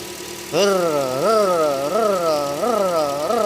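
Toyota Corolla 1ZR engine idling after retiming, heard up close. It starts abruptly, then settles into a steady hum with a rhythmic rise and fall in pitch about every 0.7 seconds.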